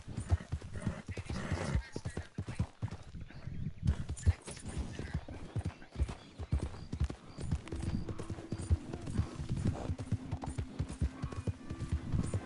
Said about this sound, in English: this horse is faster than the white one